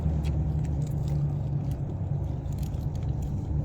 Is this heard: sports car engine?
yes